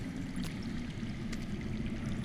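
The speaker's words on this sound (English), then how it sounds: "I hear water. From underground." Underground water flowing out of sight in the Game of Thrones video game, a steady low rushing wash like a hidden stream, constant and fairly quiet, with no voices over it.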